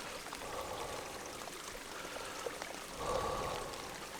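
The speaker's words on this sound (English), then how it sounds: "And the cold rain." Cold rain falls steadily in a forest, a continuous soft hiss of drops on leaves and a tarp, growing a little louder and denser near the end, with no voices.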